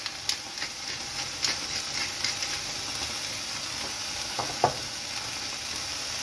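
Rump steak searing in a frying pan gives a steady, fairly quiet sizzle and crackle, with a few faint clicks and scrapes as it cooks; no voices.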